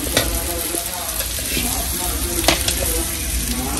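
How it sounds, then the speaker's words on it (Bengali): Okra frying in a pan in a home kitchen, a steady sizzle with occasional stirring scrapes, close and fairly loud throughout. "আর এদিকে আম্মু ঢেঁড়স ভাজি করতেছে।"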